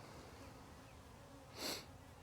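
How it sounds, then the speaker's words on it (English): Honeybees buzz at a hive entrance on a porch, a low, steady drone with one brief louder burst about two-thirds of the way through. "Just watch the majority of the bees where they come back."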